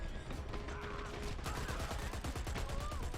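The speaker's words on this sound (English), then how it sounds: "Aaron was just shooting everything, but didn't seem to get any kills" Rapid gunfire crackles through a multiplayer shooter match, bursts of shots in quick succession, moderately loud over game noise, with faint tonal effects and a little background voice.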